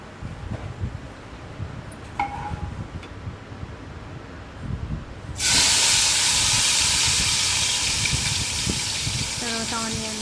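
Dried anchovies (nethallu) are dropped into hot oil in a pan and break into a loud, steady sizzling hiss partway through. Before that, quiet kitchen clatter is heard under a speaking voice.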